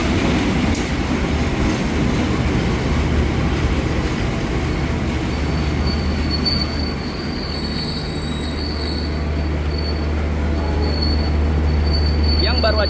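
Penataran train from Surabaya Kota, bound for Blitar, pulling in on track 2, a loud continuous rumble of rolling cars with high-pitched wheel squeals near the end.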